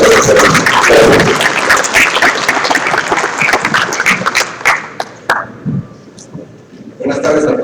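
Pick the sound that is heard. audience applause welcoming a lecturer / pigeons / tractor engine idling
audience applause welcoming a lecturer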